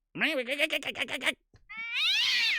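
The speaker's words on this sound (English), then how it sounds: "Cat fight." Cats in a fight yowl: a rapid run of wavering, pulsing cries, a short pause, then a long rising screech, loud and close.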